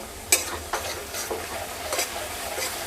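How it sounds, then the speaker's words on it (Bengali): Turmeric and spice masala frying in a pan for chicken biryani, a steady sizzle with sharp scraping strokes of stirring at irregular intervals, close by with no talking. "এবার এটাকে মশলাটাকে ভালো করে ভেজে নেব"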